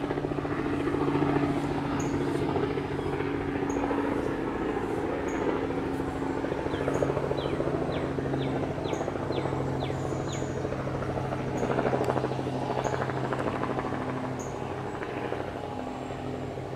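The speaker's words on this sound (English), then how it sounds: "I got lawnmowers and helicopters." A helicopter drones steadily over a cottage garden for the whole stretch, a constant thrumming hum with faint birdsong chirping in the background.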